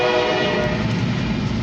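A Norfolk Southern mixed manifest freight train heads east through Erie, Pennsylvania, its steady loud rumble and layered horn-like tones filling the scene up close and continuously.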